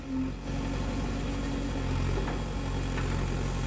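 A New Holland tractor's engine runs steadily while hauling soil on a farm alongside a JCB loader, a continuous close, low diesel drone with no talk.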